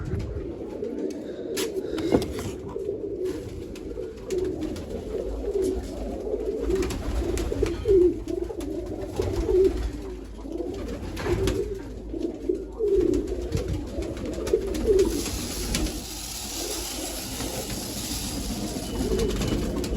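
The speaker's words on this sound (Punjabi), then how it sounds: "ਆ ਦੇਖੋ ਇੱਥੇ ਥੋੜੇ ਕਬੂਤਰ ਭੁੱਖੇ ਸੀਗੇ" Pigeons at a pigeon loft coo repeatedly in soft, throaty rolling calls, several birds close by over a steady background hum, with occasional fluttering and rustling.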